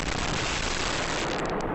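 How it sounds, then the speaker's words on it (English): Underground explosions burst beneath a Massachusetts highway intersection and fling a manhole cover high into the air. Loud, dense rumbling roar fills the whole moment with no pauses, close and harsh, unaccompanied by voices. "stunning moments as underground explosions rock an intersection in Massachusetts"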